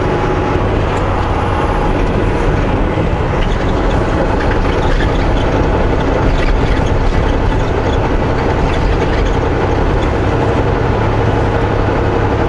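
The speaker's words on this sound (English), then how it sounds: "Now that I don't have the leak, the truck sounds so much quieter." A truck, its exhaust manifold leak now fixed, shifting down a couple of gears around 60, heard from inside as a loud, steady broadband roar of engine and road noise with faint shifting tonal hum and no talk.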